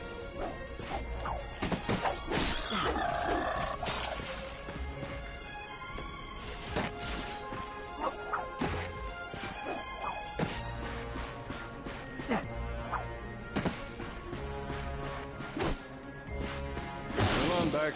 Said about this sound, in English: Look at him smashing crates.